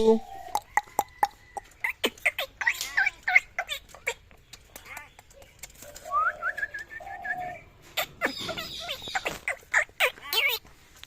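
A parrot gives repeated sharp whistles and chirps, interspersed with short squawky calls and some nearby human voice.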